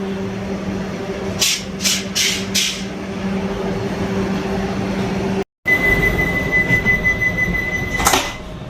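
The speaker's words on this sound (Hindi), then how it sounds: "गेट भी बंद हो गए और अब ट्रेन यहाँ रियासी से आगे बढ़ेगी" The Vande Bharat Express pulls away from Reasi station on the Jammu–Srinagar line with a steady rumbling carriage drone, a few sharp squeals and clicks, and a sustained high whine later. No one speaks.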